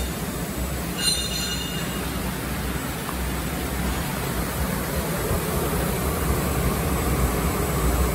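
An LPG gas burner heats a 1000-litre pressure cooking kettle with a steady, loud, even roar that holds throughout, and a brief high-pitched tone rings out near the start.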